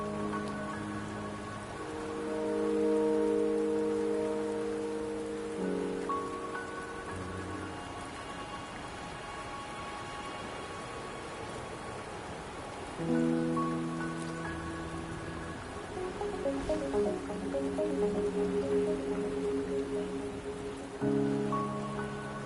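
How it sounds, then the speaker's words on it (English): Steady rain falling in the Wuthering Waves video game, a continuous soft patter of drops under sustained musical tones that swell and fade across the scene, no talk. "the rain won't last much longer"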